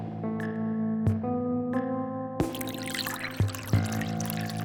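Wine from an aged bottle out of a wine cellar is poured into a glass, a steady glugging pour over a sustained tonal hum, with a few sharp knocks along the way.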